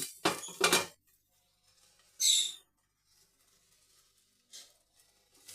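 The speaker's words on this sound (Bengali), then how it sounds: "ঢাকাটা উঠালাম" A metal pot lid clinks and scrapes as it is lifted off a pan of frying gime greens, a short sharp clatter followed by fainter taps and a second brief rattle, no voices.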